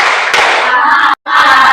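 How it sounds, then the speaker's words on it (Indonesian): A classroom of students doing a spirit clap cheer during an ice-breaking activity gives dense group clapping with a shout, then a brief pause and another burst of clapping and voices. "1 kali tepuk semangat."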